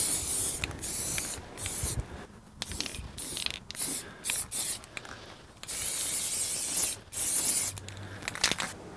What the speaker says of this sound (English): spray it, and that clears the nozzle out